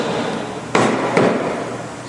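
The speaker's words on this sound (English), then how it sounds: "Mallet the front up into place" Two sharp rubber mallet blows knock a steel subframe connector up into position under a car, sounding as separate thuds about half a second apart over a steady background hiss.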